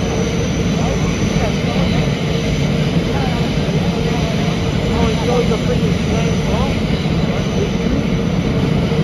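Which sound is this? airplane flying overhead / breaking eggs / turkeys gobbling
airplane flying overhead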